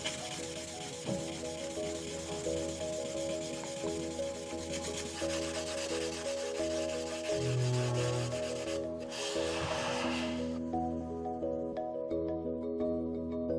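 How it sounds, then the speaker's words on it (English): Steady rubbing and sanding of a Kyoto lacquerware surface being polished smooth with charcoal, continuous and close, with a brief brighter scraping burst near the end. "spent 2 full days finishing the charcoal polishing"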